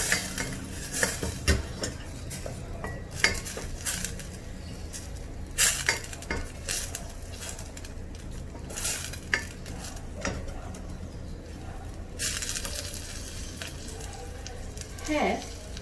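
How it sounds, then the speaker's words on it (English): Spoon stirring tomato rasam in a pot, a steady run of clinks and scrapes against the metal with a faint sizzle underneath, fairly close and moderately loud. "Give it a good stir"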